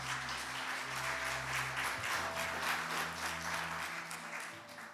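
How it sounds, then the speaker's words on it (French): Sustained applause from a large church congregation during a Sunday service, a dense steady wash of clapping lasting throughout with a low hum underneath. "on peut applaudir."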